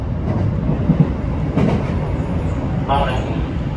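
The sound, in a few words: train running on rails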